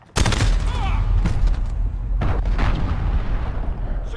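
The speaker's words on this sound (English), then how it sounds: "Allied cruise missile away." Heavy explosions from an allied cruise missile strike boom loudly in a Call of Duty: Modern Warfare multiplayer Domination match on the Gun Runner map, a sharp blast followed by rolling, sustained rumbling and a second impact, with faint voice chatter underneath.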